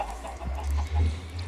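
Video-game chickens cluck in short, irregular bursts over a low, steady background hum, with a few soft clucks overlapping near and mid-distance.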